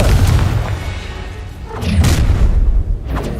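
A Confringo fire spell explodes in the Hogwarts Legacy video game, a deep booming blast with a rumbling tail, followed by a second sharp impact, loud and close against a low background rumble.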